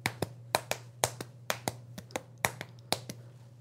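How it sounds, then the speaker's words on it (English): Two hard cheeses, a pecorino and a Parmesan, are struck against each other in a kitchen. About a dozen sharp, close knocks come in a loose rhythm, with a faint steady hum under them. "Here, I'll clap together two pieces of cheese."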